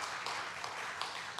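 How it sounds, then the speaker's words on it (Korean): A church congregation applauds the Rejoice worship team at a Wednesday service, a soft, steady wash of clapping heard from a distance and held at a low, even level. "우리 계속해서 수고하시는 우리 리조이스 찬양단을 위해서 한번 박수 부탁드립니다"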